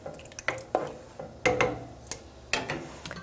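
Gumbo with black-eyed peas and chopped pork loin being stirred in a pot, giving a string of soft, irregular wet clicks and drips from the spoon against the pot, fairly quiet with gaps between strokes.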